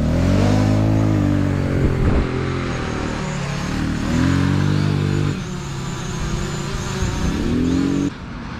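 An enduro motorcycle engine revs up and down in repeated rising pulls, loud and close, its pitch climbing through each throttle burst and dropping between them.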